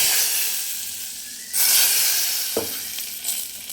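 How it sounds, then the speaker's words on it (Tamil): Hot tempering is poured into a pot of South Indian sambar topped with grated coconut, setting off a sudden loud burst of hissing sizzle that fades back to a steady fry, with no voices. "இப்போ வந்து நம்ம தாளித்து வச்சதை நம்ம கொட்டிக்கலாம்."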